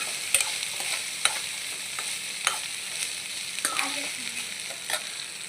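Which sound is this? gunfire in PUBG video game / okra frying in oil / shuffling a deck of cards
okra frying in oil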